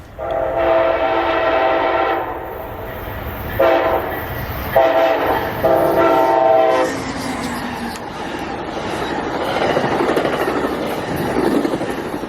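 A train horn sounds in several long blasts, then the loud rumble of the train passing close by continues.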